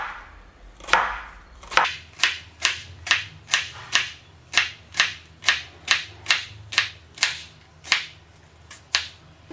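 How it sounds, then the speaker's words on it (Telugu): A knife slices a peeled raw banana into small rounds on a board for banana chips, a steady series of about fifteen crisp, close cuts evenly spaced, with no talking. "చిన్న చిన్న స్లైసెస్గా కట్ చేసుకుందాం."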